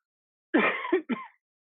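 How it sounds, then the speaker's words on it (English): A person recovering from pneumonia gives a short, close cough, one rough burst followed by a second quick hack, alone in an otherwise quiet room. "Pardon my coughing."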